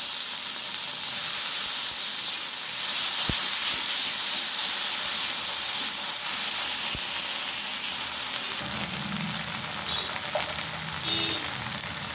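Green chili, bay leaf, ginger-garlic paste and onion paste sizzling in hot oil, giving a steady, close hiss that runs throughout, broken by a couple of faint clicks.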